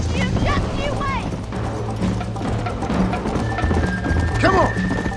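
Horse hooves clop quickly as a horse gallops in Red Dead Redemption, over background game music, with a horse whinnying partway through and voices shouting briefly.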